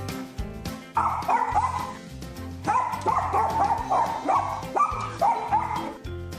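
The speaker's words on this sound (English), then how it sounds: "Intruder alert! Barking intensifies!" A small dog barks in repeated yappy bursts, close and loud, with short whimpering yips between the barks and no talking.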